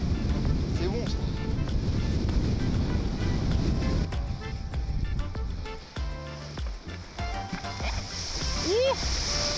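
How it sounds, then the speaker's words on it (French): Ocean waves break and wash during a surf session, a loud broad rushing noise that fades after several seconds into quieter water sounds, with people talking in French throughout. "dès qu'il y a une vague qui pète, ça lisse le plan d'eau"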